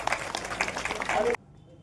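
Audience applause at a public gathering in Purandar welcoming attendees to a meeting, a dense burst of many hands clapping that stops abruptly partway through.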